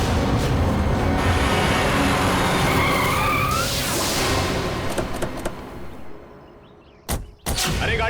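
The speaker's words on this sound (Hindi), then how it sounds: "अरे गाड़ी क्यों रोक दी?" A car driving fast then skidding with tire squeal as it brakes to a stop, loud roaring noise fading out, followed by a couple of sharp knocks.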